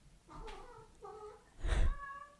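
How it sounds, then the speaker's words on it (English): A cat meows twice in short, whiny calls, then lets out a louder, harsher yowl, close by and alone indoors. "This is my kitty in here. He's decided to be very noisy right now"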